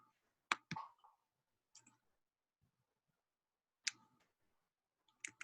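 Faint mouse or keyboard clicks come through a glitchy video call, with a quick pair of sharp clicks near the start. A few more isolated clicks follow after quiet gaps.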